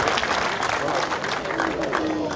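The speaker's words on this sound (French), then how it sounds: "Les applaudissements qui descendent des travées." Spectators applaud from the stands at a pétanque match in Marseille. Dense, sustained clapping fills the whole moment, with crowd murmur and a commentator's voice underneath.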